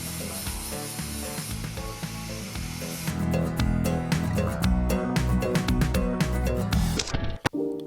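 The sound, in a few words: spray adhesive (spray mount) being sprayed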